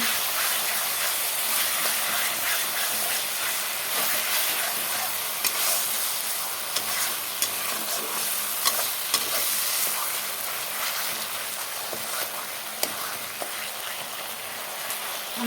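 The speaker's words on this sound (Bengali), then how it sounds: "আমার টমেটো চাটনিটা মোটামুটি হয়ে গেল আর একটু শুকিয়ে নেব" Tomato chutney reduces in a pan, sizzling and bubbling steadily while a spoon stirs it, adding occasional scraping clicks against the metal; no one speaks.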